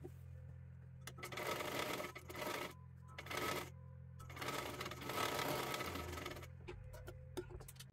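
Sewing machine stitching the front panel of a child's one-piece saree dress, in several bursts of fast mechanical stitching separated by brief quiet gaps, close and fairly faint, with a low hum underneath.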